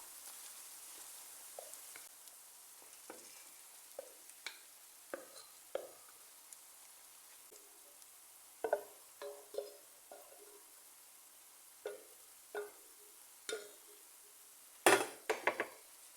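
A spoon scrapes and clinks against a pan while fried onions are stirred, sharp knocks spaced irregularly over a faint background with a louder clatter near the end.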